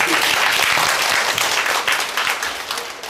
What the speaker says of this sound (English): Can you give my partners a big round of applause?